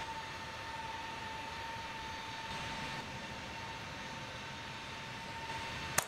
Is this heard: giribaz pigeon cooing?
no